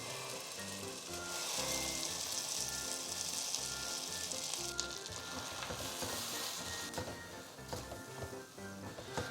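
Butter chicken gravy mix hits melted butter in a pan, giving a steady, fairly soft sizzle with occasional stirring scrapes and bubbling, with no talking.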